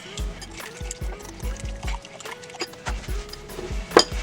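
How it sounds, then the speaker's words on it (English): Three eggs are whisked in a bowl for a shrimp po boy, a steady run of rapid, close wet clicks and liquid slaps that keeps an even rhythm for several seconds. "And we're going to beat these up real good."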